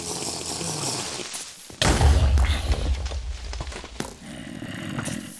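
A creeper explodes in the Minecraft video game with a sudden loud thump and a short rumbling burst after a quieter stretch, then the noise fades.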